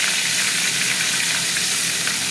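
A hilsa fish head fries in hot mustard oil, giving a loud, close, unbroken sizzle and spatter that holds even throughout, with no voices over it.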